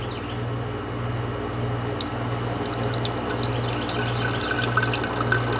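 Hot liquid poured off from a beaker during gold refining of computer scrap splashes and trickles steadily, with a faint hum underneath and small drips and splatters building toward the end.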